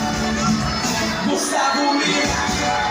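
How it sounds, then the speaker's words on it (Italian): Loud, dense crowd noise with cheering and whoops from a summer event in Gallipoli, Puglia, continuing steadily with no breaks. "Guardate l'applauso perché ve lo meritate!"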